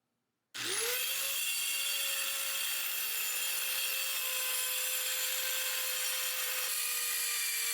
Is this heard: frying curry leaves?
no